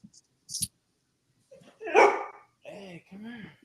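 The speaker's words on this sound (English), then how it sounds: "Why are you barking at me again?" A dog at home gives a sharp bark, close and clear, followed by softer whiny yips in quiet surroundings.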